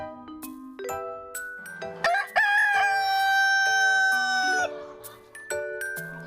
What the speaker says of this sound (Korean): 우렁찬 닭소리로 하루를 시작하는